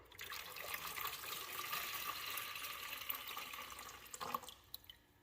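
Water poured out of the reservoir of a Gryphon C40 diamond bandsaw after glass cutting, a continuous close trickling pour that ends with a few drips and a brief clatter.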